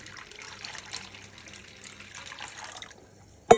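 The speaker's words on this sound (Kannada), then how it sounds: "ಇದಕ್ಕೆ ಹೀಗೆ ನೀರು ಹಾಕಿ ನೆನೆಸಿಟ್ಬಿಡೋಣ" Water is poured over washed rice in a bowl, soaking it for set dosa batter: a soft, steady trickle for about three seconds, close and fairly quiet, ending with a sharp clunk.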